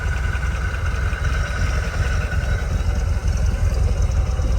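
A Chevrolet Squarebody truck engine idling steadily, a low constant rumble that holds even throughout with no breaks.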